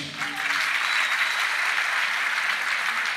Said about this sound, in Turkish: Emekçilere bir alkış.